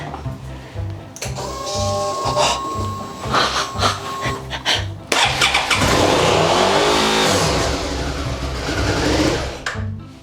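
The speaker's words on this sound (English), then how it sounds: "My bike is a complete mess, but it's turning on." Motorcycle engine cranking and catching, then revving loud and steady with a stuck throttle, close up, with no talk over it.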